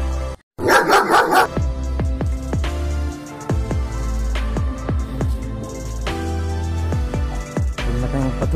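Several dogs bark repeatedly and loudly nearby on Guinhangdan Hill in Palo, Leyte, sharp overlapping barks in an irregular rhythm, with a burst of yipping near the start.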